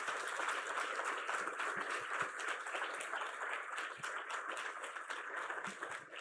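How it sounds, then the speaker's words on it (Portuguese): A church congregation applauds during a morning service, with sustained, even clapping from many hands, moderately loud and steady for several seconds. "Quantos podem aplaudir o Senhor nessa manhã?"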